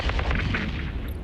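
Rapid heavy turret fire from an Angel Cartel Dramiel frigate in the space game EVE Echoes, a dense booming barrage of overlapping thumps without pause.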